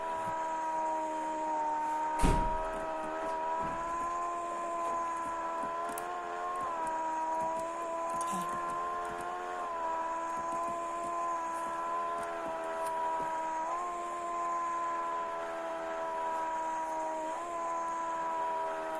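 A car in the Roblox tycoon game drives flat out, its steady synthetic engine drone holding a constant pitch with slight wavers and a brief knock near the start, sustained throughout at moderate level.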